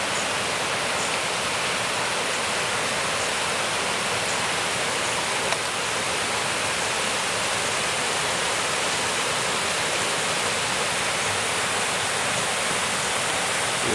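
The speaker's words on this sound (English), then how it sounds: "Cascading" Steady, full roar of water cascading down a trailside in Little Lakes Valley, John Muir Wilderness, constant and enveloping with no pauses, heard up close without any voices.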